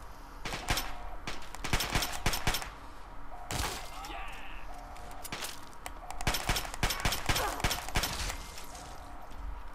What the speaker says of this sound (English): I'll shoot him a bit.